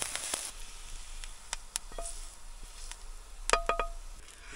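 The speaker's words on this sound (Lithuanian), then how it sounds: "Svarbiausia neperkepinti svogūnų, biškį va pakepti" Onions sizzling and crackling in a frying pan, a steady close sizzle with a few sharper pops and stirring clicks, no talking.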